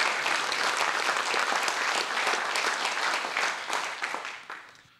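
Audience applause welcoming a speaker at a presentation event on ending poverty in Kilimanjaro, a dense, steady burst of clapping from a crowd that holds level before fading out toward the end.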